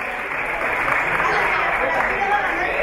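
Steady applause from an audience at an awards ceremony honouring champions, a dense wash of clapping that stays loud and even throughout.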